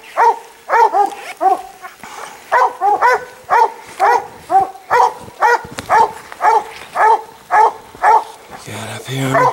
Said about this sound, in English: Got some dogs down there.